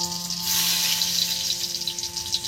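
Chopped garlic frying in hot oil with dried chillies, a steady broadband sizzle that swells after a brief start and holds with a faint hum underneath, no talk.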